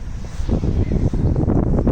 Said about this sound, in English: It's a very cold, windy day.